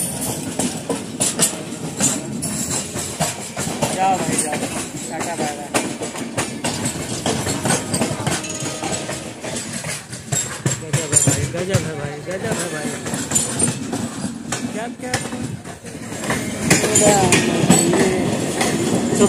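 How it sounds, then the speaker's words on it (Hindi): Udhyog Nagri Express train no. 12174 heard from on board, with loud rhythmic clickety-clack of wheels over rail joints and a rumbling carriage, steady throughout with voices talking over it. "तो अपनी ट्रेन चली गई इधर मुंबई वाले रूट पे और ये कट गई है यहाँ से मदुरई वाली चली गई भाई।"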